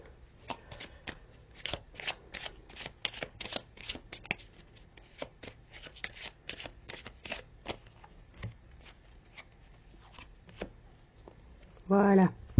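Tarot cards are shuffled by hand in quick, uneven bursts of riffling and flicking close by, with a brief voice near the end.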